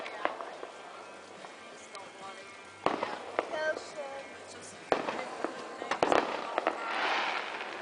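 Fourth of July fireworks pop and crackle at a backyard celebration, several sharp bangs spread across a few seconds amid crowd noise and voices, with a hissing crackle building near the end.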